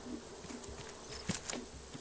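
Bees buzz around beehives in the game Raft, a faint, thin insect drone with a few brief clicks and ticks over a quiet background.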